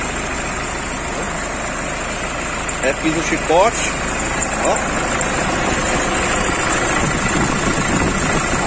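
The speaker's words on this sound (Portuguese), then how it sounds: "Aí tá aí o motor dela aí, ó, sereno." A 2005 Toyota Hilux 2.5 with a rewired harness idles steadily and evenly nearby, a low continuous engine hum under a man's speech.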